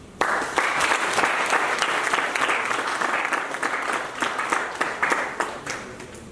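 Steady applause from a crowd at a masterclass, dense clapping that holds evenly for several seconds before easing slightly toward the end.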